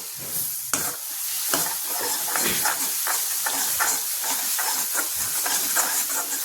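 Food fries steadily in a pan with onion, garlic and chili, a loud close sizzle broken by repeated stirring knocks and scrapes, with no voices.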